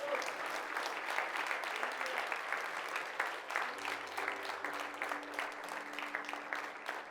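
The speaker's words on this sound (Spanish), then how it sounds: "Un aplauso bien fuerte a nuestro Dios." A church congregation claps loudly for God after a prayer during a worship service, a continuous, even roar of many hands lasting throughout, with sustained tones from a keyboard or organ beneath the clapping.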